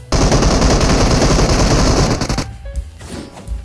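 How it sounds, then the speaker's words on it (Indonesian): A mobile shooting game played on a Poco X6 Pro phone lets out a loud, dense burst of rapid automatic gunfire lasting a little over two seconds. It stops abruptly, leaving a few faint, scattered sounds, with no talk. "Kamu pasti panik ditembak Epos Galang."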